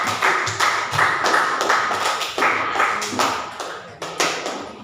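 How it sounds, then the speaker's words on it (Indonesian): A classroom group claps together in a steady, rhythmic pattern of sharp, close hand claps repeating for several seconds without talk. "Tepuk tangan dulu untuk kelompok Muhammad"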